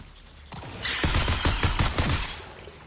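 Rapid automatic gunfire from first-person shooting in Bungie's Marathon video game rattles in a dense, loud burst of overlapping shots that lasts for a few seconds.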